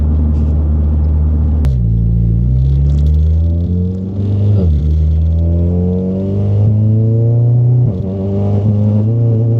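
A 620bhp hot hatch accelerates hard on a motorway slip road, its engine loud and close as rising harmonics climb through three gear changes, each upshift marked by a brief dip before the pitch climbs again.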